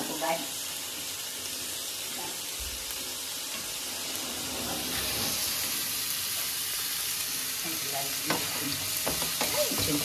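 Onions frying in a pan for a green masala, a steady close sizzle that grows louder and brighter partway through, with occasional stirring clicks and scrapes.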